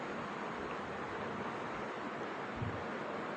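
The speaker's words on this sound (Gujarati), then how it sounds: "મોજા પણ એટલા મોટા મોટા આવે છે કેટલું પાણી ઉછળે છે" Big waves break on a rough sea at the Porbandar shore, a constant roaring wash of surf mixed with wind rumble against the microphone, with no talk over it.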